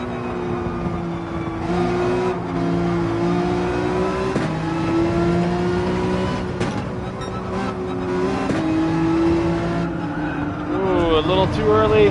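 Race car engine in Gran Turismo 7 at Dragon Trail, revving hard under throttle with steady rising and falling gear pitches and brief tire squeals, under continuous commentary from someone talking.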